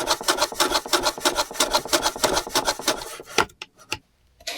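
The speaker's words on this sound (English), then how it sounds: "so I'm going to use the shooting board here." Repeated rasping strokes of a hand plane shaving wood on a wooden shooting board, steady and close, ending with a few sharp knocks and near silence.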